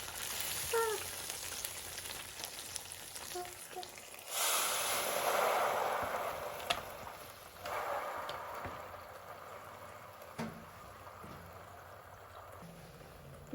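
Tteokbokki hits an oiled, preheated waffle machine with a bright hiss that swells and fades in several bursts, the sizzle close and loud.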